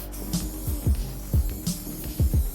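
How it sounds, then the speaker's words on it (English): Short hissing bursts from a spray paint can laying down graffiti, a couple of quick sprays over a low, rhythmic musical backdrop. "You always spray it out."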